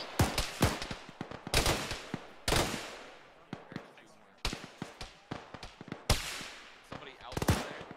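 Sharp gunshots crack in a military video game, single and paired reports scattered irregularly over several seconds, some loud and close, others fainter, with voices talking between them.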